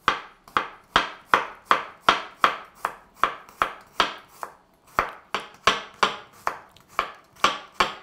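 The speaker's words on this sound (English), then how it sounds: "the first thing I'm going to do is finely slice the garlic" A knife finely slices garlic on a cutting board in a curried zucchini recipe, landing in a steady run of about sixteen crisp, evenly spaced chops, close and clear with no talking.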